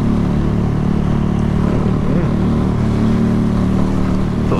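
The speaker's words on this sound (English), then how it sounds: "I'm just moving around doing wheelies and shit on the road" Motorbike riding along a road in Jamaica, pulling wheelies, with a continuous loud engine drone and wavering pitch as the throttle varies, layered with road noise.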